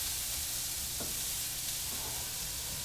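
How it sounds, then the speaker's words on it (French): Carrots caramelizing in a pan for homemade spaghetti sauce give off a steady, even sizzle that holds throughout, with a faint stir partway through. "on fait caraméliser nos carottes encore"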